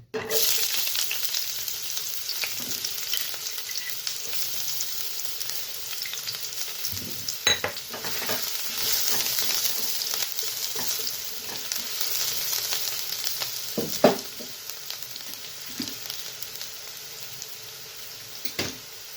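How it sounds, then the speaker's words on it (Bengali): Onions sizzle in hot refined oil in a frying pan, a steady close crackling hiss held for the whole stretch with occasional sharper pops and stirring knocks; no one speaks. "তেলটা গরম হয়ে গেছে। তো পেঁয়াজগুলো ছেড়ে দেবো।"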